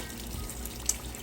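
Water rushes steadily into a Whirlpool washing machine as it fills at the start of a normal cycle, a continuous close hiss with no voices.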